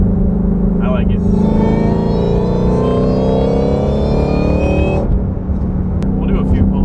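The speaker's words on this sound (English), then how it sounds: "I can hear the whine under load." A Ford Shelby GT500 with Foster's Whine mod accelerates under load, its supercharger whine rising in pitch over the loud engine roar for several seconds before easing off, heard from inside the cabin.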